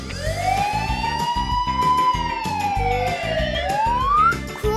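A toy police car's electronic siren wails with rising and falling tones, loud and continuous, layered with a rhythmic pulsing beat throughout.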